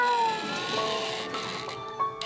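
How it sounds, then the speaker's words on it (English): A cat meows plaintively in a drawn-out call, fairly close and clear, with a second shorter sound near the end. "I call on all of you to hear the siren call of the kitty."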